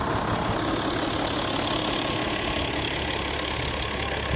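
An engine runs on a shrimp farm, giving a steady, loud, rough drone with a dense rattling texture that holds unchanged from start to finish, with no talking over it.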